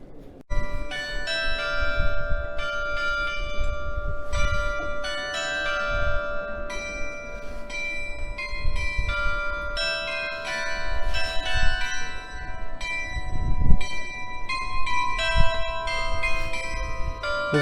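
Church bells in Düsseldorf ring on and on in a steady overlapping peal, bright and resonant, with a low rumble of outdoor noise beneath and no talking.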